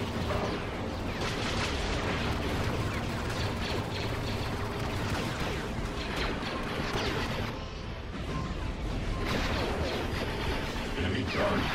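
Continuous weapon fire in a Star Wars strategy game, Fall of the Republic mod, with rapid mechanical clattering shots and heavy artillery booms layered densely and steadily throughout.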